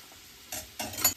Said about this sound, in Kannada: ಗೈಸ್ ಈಗ ನೀವು ನೋಡ್ಬೋದು ಚೆನ್ನಾಗಿ ಎರಡು ಕಡೆನೂ ಫ್ರೈ ಆಗಿದೆ